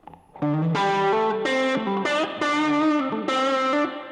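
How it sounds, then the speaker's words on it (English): A clean electric guitar rings out in sustained chords with a spacious reverb tail, played alone at a steady moderate volume. "And then we've got his amp sound with his amp reverb to use as a reference."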